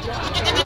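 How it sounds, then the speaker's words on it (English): A ten-day-old baby goat gives one short, close bleat. "10 days old little goat"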